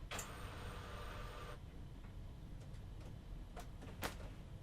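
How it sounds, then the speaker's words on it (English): A home printer whirs and clicks on its own at low level, with a steady mechanical hum, a brief buzzing stretch early on and a few sharp ticks and clacks scattered throughout, no one talking. "Why are you making noise, printer?"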